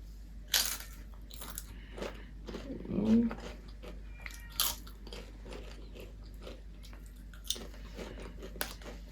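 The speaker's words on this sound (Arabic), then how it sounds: "نكهة الطماطم فيها بصوا مليانة ازاي. فيلا بينا ندوقه" Tomato-flavored Egyptian potato chips are bitten and crunched near the mic, a few sharp crisp bites spaced apart over several seconds, with a short voiced sound in the middle and quiet between bites.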